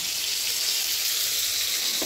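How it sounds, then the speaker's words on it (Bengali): Shrimp frying in a pan give off a steady, close sizzling hiss that holds evenly throughout, with no talking. "এইদিকে এনেছে তোমার চিংড়ি মাছ, আমি কিছুটা ভাজা শুরু করে দিয়েছি"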